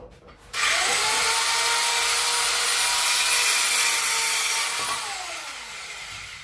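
A power tool whines up and cuts steadily through material for several seconds, loud and close, then winds down.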